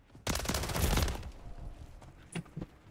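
A Call of Duty gun game round with the pistol version of the Uzi: a loud, rapid automatic burst of close gunfire lasting almost a second, followed by a few quieter scattered shots.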